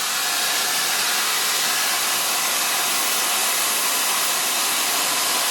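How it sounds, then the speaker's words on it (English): A hair dryer with a diffuser blows steadily on a person's hair, a loud continuous airy roar with no break or change in pitch. "And just gently dry the hair."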